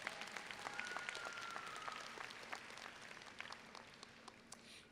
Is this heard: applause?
yes